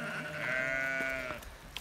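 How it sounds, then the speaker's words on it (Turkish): A goat on a farm lets out a single drawn-out bleat, close and clear, fading at the end. "Şöyle gördüğünüz gibi keçilerimiz."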